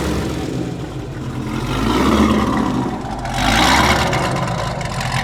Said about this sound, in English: if you can hear me, it sounds like we have blower surge